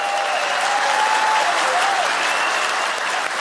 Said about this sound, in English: would you give all of them a round of applause?